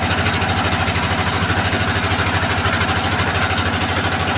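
A boat engine drones steadily and loudly close by on a lake trip from Kaptai to Rangamati, with a continuous rhythmic mechanical throb and no talk.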